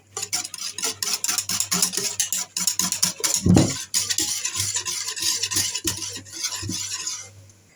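Utensil stirring food in a pot, with rapid repeated scraping clinks in a steady rhythm, close and clear over a faint low hum, one heavier clatter partway through.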